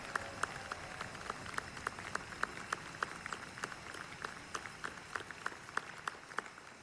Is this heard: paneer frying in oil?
no